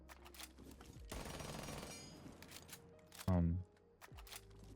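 SMG-11 submachine gun fire in a Ubisoft shooter comes as one dense, rapid burst, then a short, deep booming thud, all fairly faint, with a person talking over the game audio.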